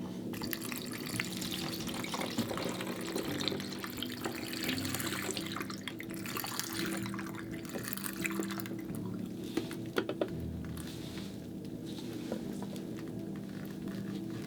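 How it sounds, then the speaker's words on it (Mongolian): A second film-developing chemical trickles and splashes into a container in a steady, continuous stream of liquid, fairly quiet and close, with small drips and clinks. "За, хоёрдугаар хор ингээ дуслаа."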